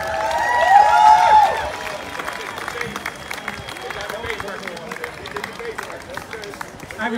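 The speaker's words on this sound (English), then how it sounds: "Come on, let's give a bigger round of applause for this family." Audience at a Pride parade applauding a family, a broad wash of clapping and crowd noise that swells loud for the first second and a half, then settles into steadier, softer applause with a few cheers.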